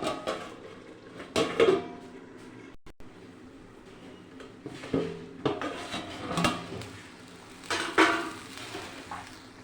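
A metal pot of cooking meat in a home kitchen gets a lid set on it, heard as several clanking, scraping metallic knocks spread across the clip with quiet pauses between them.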